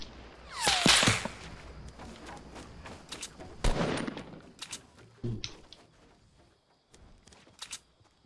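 Minigun fire in the Fortnite Battle Royale video game: a loud burst near the start, then scattered sharp cracks and shorter volleys trailing off over several seconds, no talk.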